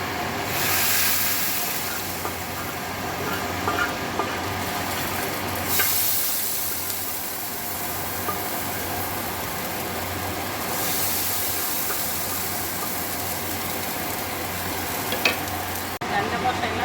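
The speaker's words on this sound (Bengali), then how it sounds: "পেঁয়াজ ভাজা হয়ে গেছে বাদামি কালার। এখন ডালের মধ্যে দিয়ে দিব ডালটা।" Steady hiss of lentils (dal) sizzling after being tipped onto onions fried golden brown, with continuous stirring and a few clinks throughout.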